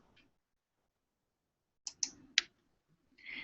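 Several sharp computer mouse clicks while navigating the Hootsuite social media dashboard, a few crisp taps in quick succession after a pause, close and clear.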